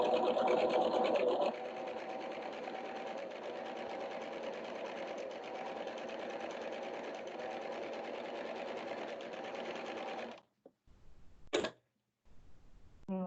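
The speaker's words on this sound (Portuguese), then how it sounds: "Então, vamos lá, meu ponto do overlock." An overlock serger runs steadily while sewing a closed seam, a loud, continuous mechanical whir for about ten seconds, then stops, followed by a few brief clicks and handling noises.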